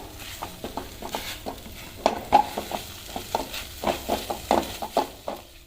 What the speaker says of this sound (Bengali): 2 বড় চামচ মিল্ক পাউডার দিয়ে দিলাম। এখন ভালো করে নাড়ব।